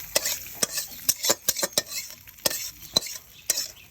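Eggplant bharta is mashed and mixed by hand with fried lentil nuggets, coriander leaves and onion, making a run of close, sharp, irregular squelching and tapping knocks against a dish with quiet gaps between them.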